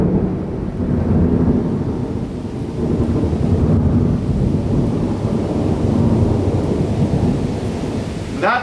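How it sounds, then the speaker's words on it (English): Loud, close rumbling thunder rolls on continuously over steady heavy rain during a severe thunderstorm in Charlotte, North Carolina. "That was intense thunder."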